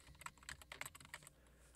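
A computer keyboard typed on in a quick, short burst of soft clicks and taps, close and quiet, with no voices.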